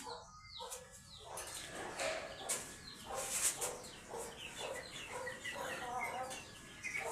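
Aseel chickens cluck and call continuously nearby over a dense rustling background, with a few louder squawks standing out.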